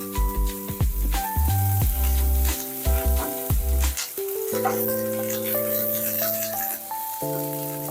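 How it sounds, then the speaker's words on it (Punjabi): Grated garlic and ginger sizzle in a pan for a chili chana dish, a continuous bright crackle running beneath loud background music. "ਆਪਾਂ ਪਾਵਾਂਗੇ ਲਸਣ ਅਦਰਕ ਥੋੜਾ ਜਿਹਾ ਇੱਕ ਅੱਧੂ ਕਸ ਕੀਤਾ ਹੋਇਆ ਤੋਂ ਆਪਾਂ ਇਹਨੂੰ ਥੋੜਾ ਜਿਹਾ ਪਹਿਲਾਂ ਭੁੰਨ ਲਵਾਂਗੇ"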